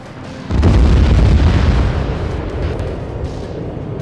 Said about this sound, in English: Cluster bombing is a highly destructive form of warfare